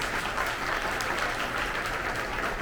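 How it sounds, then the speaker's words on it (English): A luncheon crowd at an awards event claps for its honorees, a continuous even patter of many hands sustained from start to finish at moderate loudness in a large room. "Let's give them a round of applause."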